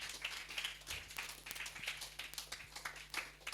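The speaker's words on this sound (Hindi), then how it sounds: "जोर से ताली बजाएं प्रभु के लिए।" Church worshippers clap for the Lord, a faint, somewhat distant patter of many hands that holds steady throughout with no voices over it.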